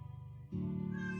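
A cat at an animal shelter meows plaintively, a sustained, close mournful cry that rises midway and holds steady, heard alone with no talk.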